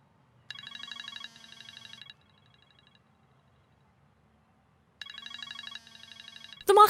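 A telephone rings in two electronic warbling bursts separated by a pause of several seconds, clear and close against a quiet room, with a voice starting at the very end.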